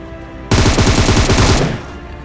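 Automatic rifle fire in PUBG, a loud close burst of rapid shots lasting about a second before cutting out.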